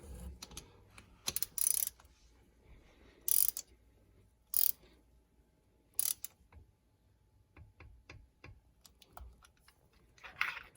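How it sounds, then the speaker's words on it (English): Ratchet wrench tightening a spark plug on a 2018 Yamaha 242x boat engine: bursts of rapid clicking from the pawl, with quiet pauses and small handling noises between them, close by and without talk. "get your ratchet back on there"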